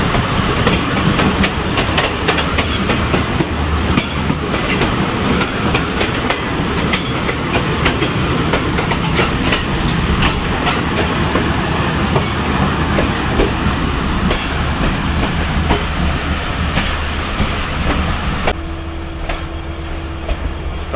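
A Pakistan Railways ZCU30 diesel locomotive chugs along on a run between Khanewal and Lahore, its loud steady rumble carrying rhythmic clickety-clack wheel beats throughout, with the roar dropping off abruptly near the very end.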